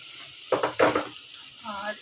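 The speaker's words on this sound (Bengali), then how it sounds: "দিয়ে আমি একটু ভাজতে থাকি পেঁয়াজ মরিচ চিংড়ি মাছের সাথে।" Onion, chili and shrimp frying in oil in a pan: a steady close sizzle with two short bursts of stirring scrapes in the middle, then a brief faint tonal sound near the end.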